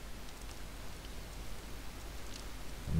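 Rain in the video game Force of Nature 2 falls as a soft, even hiss of drops, faint and steady throughout with no talk.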